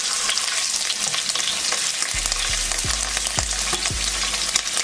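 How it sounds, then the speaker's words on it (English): Shrimp fry in the same pot that held salmon, a loud steady sizzle filling the clip with several low knocks and stirring bumps of a utensil against the pot in the second half. "we're just gonna fry the shrimp"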